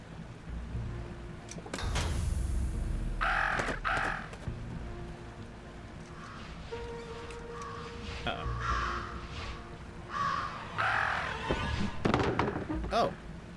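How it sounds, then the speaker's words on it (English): Crows in the video game Jenny LeClue caw in several harsh bursts, with occasional thuds and thumps in between, heard over a game background and intermittent speech. "Talk about a murder of crows."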